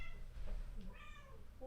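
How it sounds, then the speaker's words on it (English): A cat meows indoors, a short rising-and-falling call near the microphone, with a second fainter meow following over low background hum. "Do you want to meow again?"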